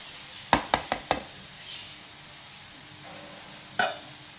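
Cabbage poriyal with grated coconut frying in a pan, with a quick run of four spatula scrapes, a faint sizzle, then one more scrape near the end.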